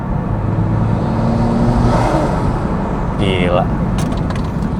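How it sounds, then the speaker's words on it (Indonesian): A modified performance car engine with an MST exhaust idles with a steady low rumble, then revs sharply near the end before settling, while a voice speaks briefly. "MST enak banget suaranya"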